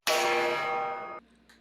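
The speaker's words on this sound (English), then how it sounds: "I'm gonna do all the dishes that have to be done" A single loud metallic clang from dishes being washed in a home kitchen rings out and fades over about a second, followed by a faint soft knock.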